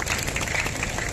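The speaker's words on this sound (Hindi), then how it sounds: "आप जोरदार तालियों से भट्ट जी का अभिनंदन और स्वागत करेंगे" A crowd at an outdoor political rally in Guptakashi applauds to welcome a speaker, a dense and steady wash of clapping over a short stretch.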